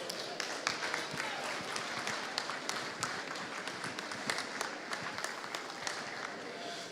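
Spectators at a dairy cattle show give the exhibitors a round of applause, a quiet, distant patter of clapping that stays fairly even throughout, with faint crowd murmur underneath.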